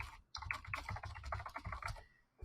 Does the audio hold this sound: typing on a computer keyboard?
yes